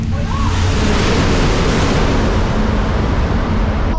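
A Japanese maglev test train passes at full speed beside an outdoor observation deck, producing a loud, steady, broadband roar that stays constant throughout, with no voices.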